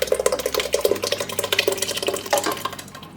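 Blended tomato soup, a lightened-up copycat of Panera's, is poured into a pot on the stove: a close, continuous wet slosh and glug lasting about three seconds, with no talking.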